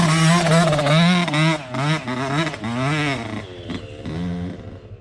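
A small Yamaha YZ dirt bike revs hard on a hill climb, its engine note swinging up and down in repeated surges, loud and close, with no talking.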